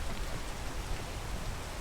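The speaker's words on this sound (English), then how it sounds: "Oh, it's the rain." Rain pours steadily in the video game PEAK, a dense, even hiss of falling drops at moderate volume with no voices over it.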